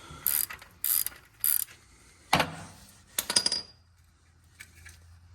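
Ratchet wrench loosening the oil drain plug on a 2014-2018 BMW X5 35i, a few quick rattling bursts of clicks followed by the plug clinking free, close and fairly loud with no talk.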